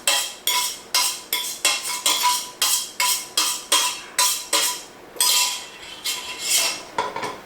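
Utensil clanking and scraping against a pot as drained pasta is stirred into Bolognese sauce, a rapid rhythmic series of loud metallic clinks and scrapes with no talking.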